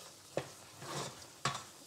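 Choux pastry dough being stirred in a saucepan until it forms a ball that pulls away from the sides, giving two brief scraping knocks with a soft sizzling swish between them, close and fairly quiet.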